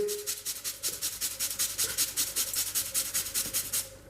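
Onion being grated for pizza sauce, a steady rhythmic rasping with about fifteen even back-and-forth strokes, close and fairly loud, no talking.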